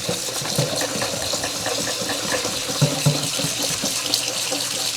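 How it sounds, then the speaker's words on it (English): Tap water runs steadily into a container during rinsing, a continuous close splashing wash with small bright clinks scattered through it and no talking. "when the water is running, you're gonna notice, look at that water coming out."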